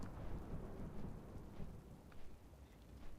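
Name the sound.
thunder from lightning in World of Warcraft video game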